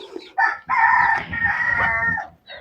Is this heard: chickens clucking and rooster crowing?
yes